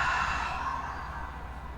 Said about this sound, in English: Now exhale through your mouth.